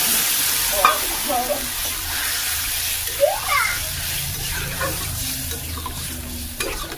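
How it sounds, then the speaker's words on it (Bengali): Water poured into a pan of vegetable curry, with a steady loud sizzle and bubbling hiss throughout and a few clinks of a utensil against the pan. "এরপর এই জলটা দিয়ে দিচ্ছি"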